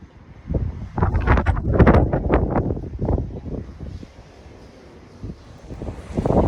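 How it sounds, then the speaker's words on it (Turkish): Strong wind on a villa terrace in Didim, Turkey buffets the microphone in loud, rumbling gusts, easing off in the middle before surging again at the end. "rüzgar var."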